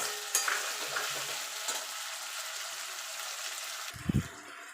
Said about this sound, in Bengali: এবার আমি আদা রসুনের পেস্টটা দিয়ে দেবো। দিয়ে ভালো করে নাড়াচাড়া করে নেব